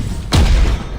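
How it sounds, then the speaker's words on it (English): A single heavy boom of mortars and an ion cannon detonating during a Vainglory teamfight, a sudden thudding impact that rings briefly over a low game rumble. "Note how I'm launching the ion cannon and my mortars"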